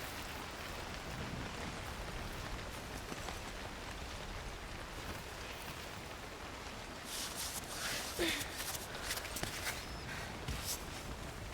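Steady rain falls in the video game Cosmicborne, a soft continuous hiss with some brief crackling patter near the end and no voices.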